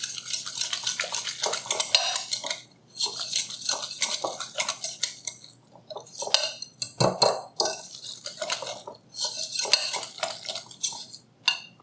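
Utensils clatter and scrape against a bowl as cheesecake batter ingredients are mixed with cornstarch for a pumpkin swirl cheesecake. The stirring is busy and close, with rhythmic clinks and brief pauses.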